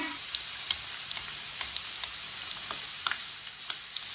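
Chicken kebabs sizzle and fry steadily in an oiled pan, a constant close crackle with scattered small pops and no voices.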